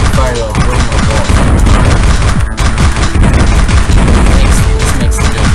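Dense, constant barrage of loud arcade-style shooting and explosion effects from the pygame aliens.py game, crowded and overlapping with no gaps.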